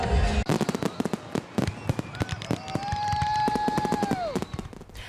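Independence Day fireworks bursting in rapid succession, sharp cracks and booms layered with rising whistling shells, loud and close, continuous crackle throughout.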